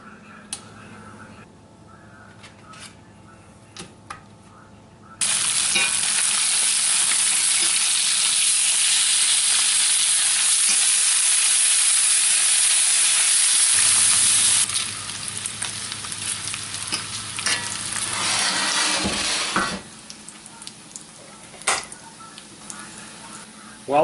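Homemade thick-cut bacon sizzles and crackles steadily in a pan of rendered grease, loud and close, with the fry noise surging, easing, then rising again and clattering briefly near the end.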